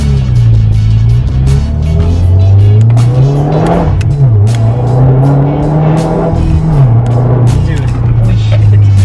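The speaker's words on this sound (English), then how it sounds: "Dude, this car is ridiculously fast." A Subaru WRX accelerates hard, its engine note rising and falling through gear changes with a loud, droning exhaust from inside the car, while occupants talk excitedly over it.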